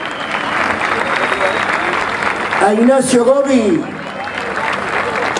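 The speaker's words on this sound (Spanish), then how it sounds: "A ver, el aplauso para Javier." Audience applause greets musicians being introduced one by one at a concert, with loud, sustained clapping and an announcer's voice cutting in over the middle of the ovation.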